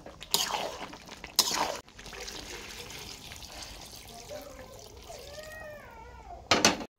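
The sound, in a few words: hot water being poured into a pot of meat curry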